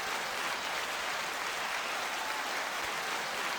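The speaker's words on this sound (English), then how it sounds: "Round of applause to us." Canned applause sound effect fired from a studio button, a steady dense wash of clapping and cheering held evenly for several seconds without pause.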